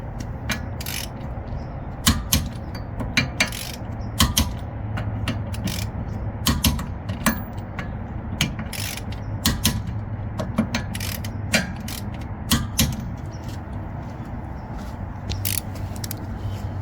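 Torque wrench ratcheting while tightening wheel adapter lug nuts, with sharp repeated clicks in short bursts over a low background hum, close and fairly loud.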